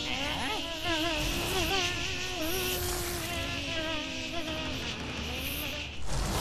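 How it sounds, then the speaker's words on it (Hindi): A swarm of mosquitoes in an animated children's show gives off a loud, continuous whining buzz of several overlapping wavering tones that slide up and down, close and sustained, ending in a brief bump of noise. "इसीलिए मैंने आसपास के गांव से सारे मच्छरों को बुलाया है।"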